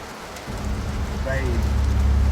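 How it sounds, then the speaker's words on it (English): Heavy rain pours down steadily at the Nürburgring, a dense broadband hiss that builds from a quieter start and holds loud and continuous. "The heavens truly opened"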